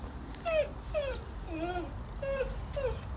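A dog whimpers in a run of about five short, high, falling whines, each separate and fairly close, over a low background hum.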